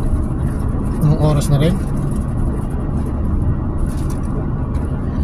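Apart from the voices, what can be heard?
road traffic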